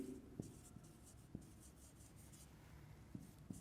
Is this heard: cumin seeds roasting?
no